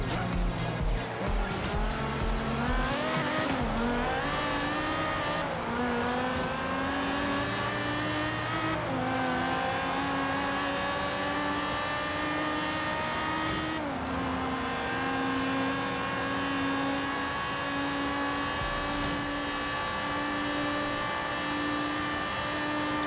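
A Corvette races in Forza Horizon 3, its engine revving up and down through gear changes, with tires squealing through corners, loud and continuous across the whole stretch.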